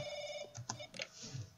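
Telephone ringing in the horror video game The Crooked Man: a short, steady electronic ring tone that sounds once, with faint rustling and thumps around it.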